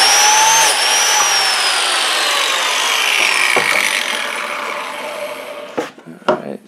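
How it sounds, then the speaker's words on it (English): A biscuit joiner cuts a slot into a wooden board for a cosplay shield, a loud, close, steady high power-tool whine that slowly drops in pitch, then winds down with a few clunks. "then once it's all lined up, then you just pull the trigger and it cuts a little slot."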